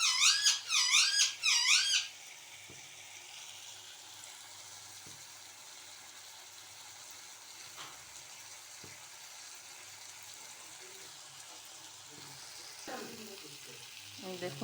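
Masala sizzles and crackles steadily in hot oil while being stir-fried for tel koi, a soft, continuous frying hiss with occasional scrapes and clinks of a utensil; a squeaky, chirping sound opens the clip before fading out.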